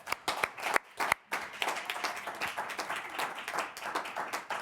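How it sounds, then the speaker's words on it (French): Audience applause for an award winner at an artisan awards evening: a few loud, separate hand claps open, then settle into a sustained mix of fairly close clapping from a modest crowd. "Alors on applaudit"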